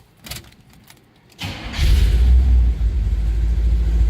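A 1971 Chevrolet Chevelle with an aftermarket stereo: a few clicks, then the starter catches at about a second and a half and the engine settles into a loud, steady, rumbling idle, close by, with no talk.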